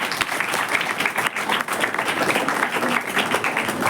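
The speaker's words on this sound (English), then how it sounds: "Please have a round of applause for them." Applause at a medical seminar on myocardial infarction, a continuous dense patter of many hands clapping at a steady level throughout with no pause.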